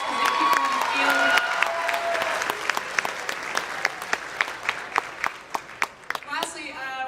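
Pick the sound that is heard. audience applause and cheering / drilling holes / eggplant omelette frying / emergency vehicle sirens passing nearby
audience applause and cheering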